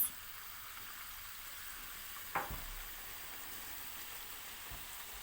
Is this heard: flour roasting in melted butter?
yes